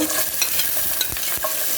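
Chopped garlic drops into hot oil and fries with a busy, crackling sizzle, broken by a few quick scraping stirs, close and fairly loud for a short moment.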